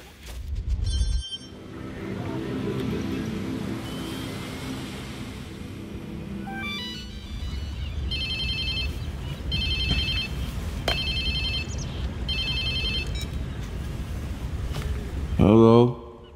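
A mobile phone rings in Watch Dogs 2, repeated bursts of a bright electronic ringtone over low ambient rumble, with a short voice near the end.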